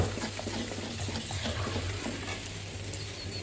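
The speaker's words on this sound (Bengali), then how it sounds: "তো কষানো শেষে এখন পানি দিয়ে দিচ্ছি।" Water is poured into a cooking pot of sautéed potatoes, making a continuous rushing splash over a low sizzle that holds steady throughout.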